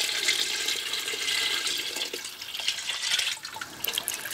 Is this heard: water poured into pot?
yes